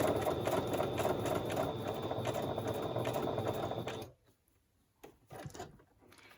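A sewing machine runs a zigzag stitch at a steady rapid clatter for about four seconds, then stops, leaving a few soft clicks and handling knocks afterward.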